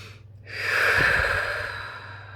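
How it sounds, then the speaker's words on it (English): One slow, deep breath drawn in and let out close to the microphone, a soft airy rush that swells and then fades, with no talking. "you get them to take a deep breath with you in and out"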